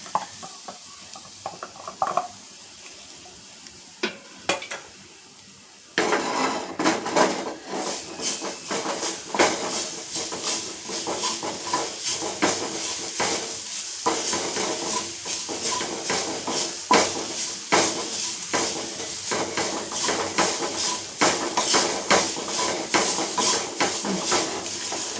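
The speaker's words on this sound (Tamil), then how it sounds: "தேங்காய் பூவையும் இப்போ நம்ம வறுத்துக்கலாம்." Grated coconut roasts in a pan under continuous stirring, a dense scratchy hiss with rhythmic scraping strokes that starts quiet and becomes loud and steady after a few seconds.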